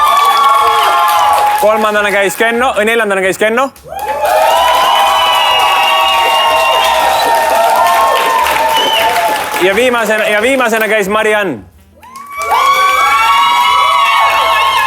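A studio audience at an Estonian dating show cheers and applauds in loud bursts, with whoops and children shouting; the noise rises and falls as a host announces the contestants one by one, dipping briefly to near silence between rounds.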